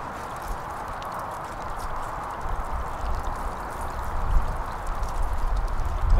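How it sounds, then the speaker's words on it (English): Water rushes steadily through the funnel of a Goldrop gold recovery machine as it is rinsed out, a constant splashing stream that swells slightly louder toward the end. "Now I'll wash out the funnel."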